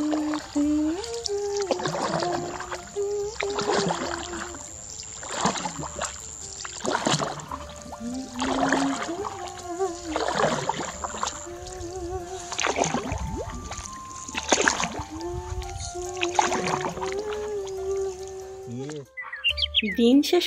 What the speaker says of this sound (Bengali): বিকেলে নির্জন পরিবেশে ডিঙি নৌকাতে ভ্রমণ